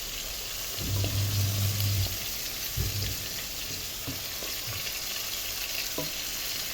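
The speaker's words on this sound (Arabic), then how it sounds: "بصوا يا بنات، هنسيب الفراخ لحد ما تتحمر." Chicken browning in a pan for kabsa, a steady close sizzle and hiss with occasional stirring clatter and a brief low thump.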